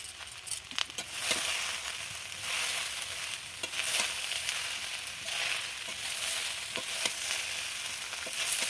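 Shredded cabbage and mixed vegetables with egg fry in a wok with a constant crackling sizzle, broken by sharp scraping clicks of a stirring spatula, close up and without talk.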